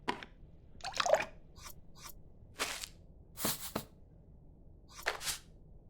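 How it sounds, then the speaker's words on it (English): Water poured into a cooking pot in the cooking video game Venba, heard as a few short splashy, dripping bursts spaced unevenly over a quiet background with no talk. "Let me get the water in first."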